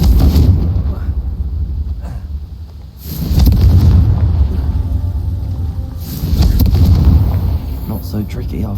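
A Confringo fire spell in the game Hogwarts Legacy detonates in loud, booming blasts, with two big rumbling bursts landing a few seconds apart and a low roar lingering between them.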